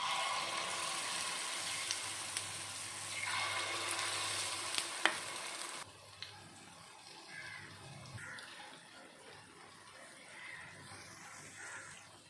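Banana paniyaram batter frying in a pan, a soft steady sizzle and bubbling with a few light clinks from a utensil. The frying fades quieter partway through.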